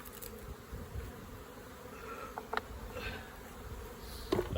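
Honey bees buzz around a hive, a faint, continuous hum with a few individual bees passing close by.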